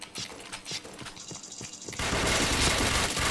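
Gunfire in the shooter game Point Blank: a run of rapid automatic shots with a regular rhythm gives way to a loud, dense burst of continuous firing and noise.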